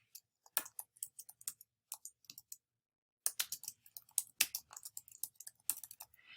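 Keys clatter on a computer keyboard in quick bursts of close clicks, with a short pause before a denser run of typing, while someone enters a title in a type tool.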